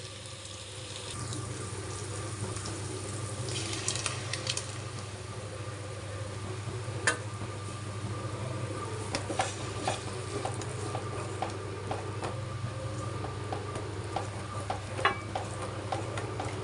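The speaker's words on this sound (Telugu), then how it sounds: "టమాటా ప్యూర్ని కూడా బాగా వేయించాలి." Tomato puree frying with ginger garlic paste in a pan, a steady, even sizzle that runs throughout, broken by occasional scrapes and taps as it is stirred, close but moderate in level.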